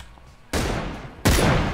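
Two loud gunshot blasts in PUBG, each a sharp broadband crack followed by a sustained rumbling tail, the second slightly louder, after a quiet lead-in.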